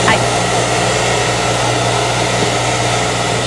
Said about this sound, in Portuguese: vamos para o próximo barulho, é o secador de cabelo